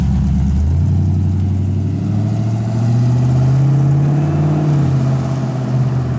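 A 1940 Ford sedan engine idles loudly through turned-out exhaust tips with a deep, steady exhaust rumble that swells slightly mid-clip, heard alone without talk.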